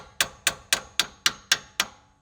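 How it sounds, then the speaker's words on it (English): Seven light hammer taps, evenly spaced about a quarter second apart, seat a Powerstop Extreme Heavy Duty Towing ceramic brake pad into its bracket; each strike is sharp and close with a short metallic ring. "Gently tap it in"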